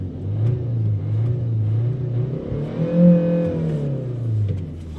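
A car engine revving up and down nearby, a loud steady mid-pitched rumble that rises to a peak partway through and settles again, with no talk over it.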